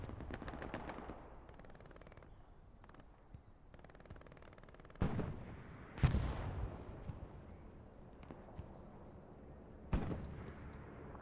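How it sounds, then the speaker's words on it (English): Artillery bombing rounds in a World War style video game land as several sharp, booming blasts, interspersed with distant gunfire and rattles, the loudest hits coming in the middle and near the end. "You have a bombing round coming in."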